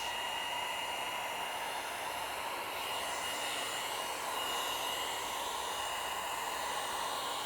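A heat gun blows a steady, loud, even whoosh while post-heating vinyl wrap on the trunk of a Tesla Model 3 Highland, running unbroken throughout.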